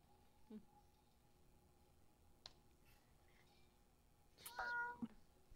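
Cats meowing from pet carriers inside a car: faint, scattered meows over a low engine hum, with a louder plaintive cry near the end.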